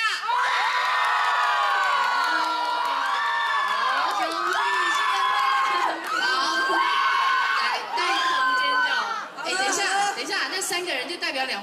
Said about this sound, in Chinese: 给他掌声加尖叫一下